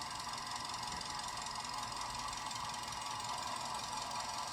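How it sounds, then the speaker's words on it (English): Cheap $150 auction car with a dented door, engine idling in a steady low rumble, faint and distant under a constant broadband hiss. "You can hear the engine."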